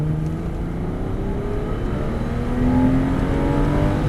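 Porsche Boxster accelerating hard on a circuit during a driving course, its engine note climbing steadily as revs build, loud and continuous from inside the car with no talk.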